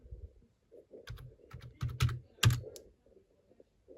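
Keystrokes tap out a login name and password on a computer keyboard attached to an Archos 9 tablet, about a dozen quiet, irregular clicks with short pauses, close and alone with no talking.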